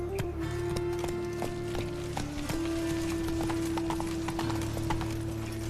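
Hooves of Roach, Geralt's horse in The Witcher 3, pound in a quick, steady galloping rhythm, close and clear over a low sustained game ambience tone that runs the whole time.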